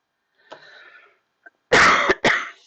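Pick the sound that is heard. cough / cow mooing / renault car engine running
cough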